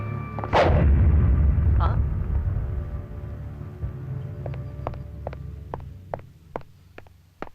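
Gunfire in a Kannada film climax scene, a loud boom early, followed by a string of sharp, evenly spaced shots over a low hum.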